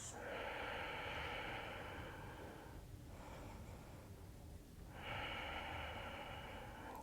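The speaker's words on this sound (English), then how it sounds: "Conscious breaths." Slow, deliberate breathing during a vinyasa yoga flow: a long, steady airy exhale, a quiet pause, then another long breath. Close and clear, with no talking.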